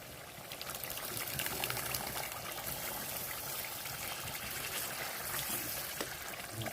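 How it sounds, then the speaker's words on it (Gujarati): Boiled water pours steadily into a pan of pav bhaji, a continuous close trickling and splashing that holds at an even level for several seconds with no voices. "હવે પાણી નાખશું. ઓલું બાફેલા પાણી હતું એ."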